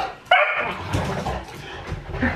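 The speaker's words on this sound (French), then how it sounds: "arrête d'aboyer" A dog barks and whimpers indoors at home with other dogs at play, sharp yips rising out of a lively domestic background at moderate distance.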